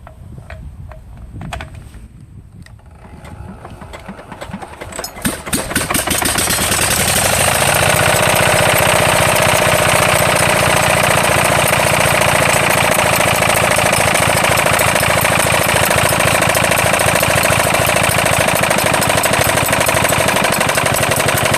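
A diesel walk-behind tractor engine turns over with a few uneven chugs, catches and then runs loud and steady with a rough knocking rhythm, close by, after its fuel system has been bled.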